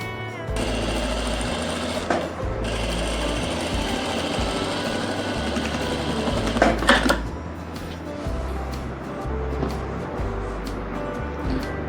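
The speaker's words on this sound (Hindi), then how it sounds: "तो यहाँ तक बेल्ट है वहाँ तक की सिलाई लगानी है आपने।" A sewing machine stitches a palazzo waistband with belt and elastic, running as a steady, rapid mechanical chatter close up. Brief pauses and speed changes break the run, with no talking.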